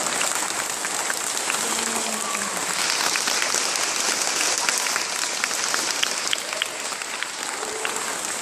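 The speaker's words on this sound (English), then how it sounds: "Show me your best applause. Really loud." A crowd of elementary school children claps together in a dense, continuous burst of applause, loud and sustained without pause.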